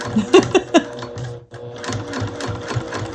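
A sewing machine top stitching piping runs in short bursts of rapid mechanical chatter, pauses briefly midway, then resumes in a steady run, close up.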